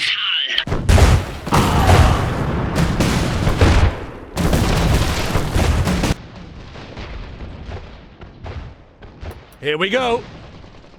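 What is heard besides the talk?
gunfire in the video game Iron Harvest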